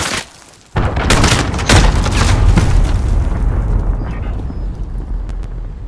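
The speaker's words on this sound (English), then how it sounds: "Enemy cruise missile incoming!" A cruise missile strike explodes in the Call of Duty: Modern Warfare team deathmatch, starting with a sudden loud boom and then a long rumbling roar of blasts and debris that slowly fades. Brief gunfire crackles through it.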